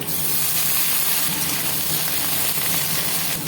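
Cut brinjal goes into a pan where potato and onion are already frying, giving a steady, close, dense sizzle and hiss that holds level throughout with no talking.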